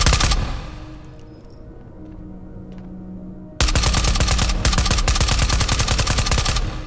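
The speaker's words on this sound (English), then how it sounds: "Where are those gunshots at?" Gunfire rings out in the shooter video game Ghosts of Tabor, starting faint and distant, then a loud close burst of rapid automatic shots runs for several seconds with a brief gap partway through.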